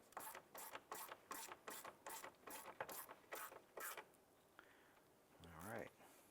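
A hand ratchet clicks in about ten quick, evenly spaced bursts while driving in a stabilizer clamp screw on a 2011-2019 Ford Fiesta, close and crisp, followed by a short whirring sound at the end.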